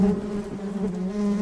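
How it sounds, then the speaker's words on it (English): A wasp buzzes loudly and close by with a continuous droning whine that wavers slightly in pitch, and no voices are heard over it. "Is that notebook running away from a wasp?"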